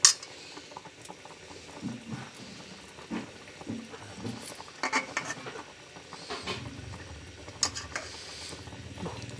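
Water spinach stir-fried with garlic in a pan gives a soft, steady sizzle, with scattered scraping and clinking of a utensil against the pan, quiet and close.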